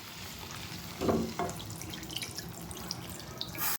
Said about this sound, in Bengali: মাংস আমার কষা হয়ে গেছে, এবার আমি জলটা দিয়ে দেবো।